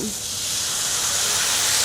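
A steady, loud hiss of wine sizzling in a hot pan while cooking angel hair with bacon, chili and garlic, continuous and close, with no speech.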